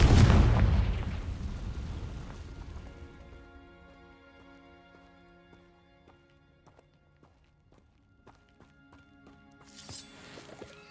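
A Confringo blasting spell goes off in Hogwarts Legacy: a loud, close burst that rumbles and dies away over a couple of seconds, then gives way to soft in-game music with a faint rustle near the end.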